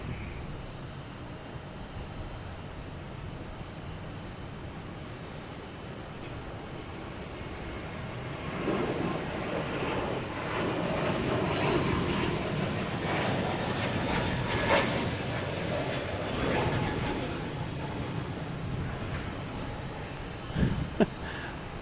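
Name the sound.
JetBlue Airbus A321neo taking off at Boston Logan Airport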